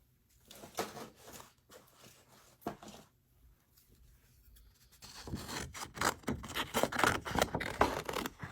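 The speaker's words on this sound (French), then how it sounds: "je vais juste découper autour avec des ciseaux" Scissors cut paper around a printed picture of a small moose: soft snips and rustles come close and quiet at first, then grow busier and louder with paper handling toward the end.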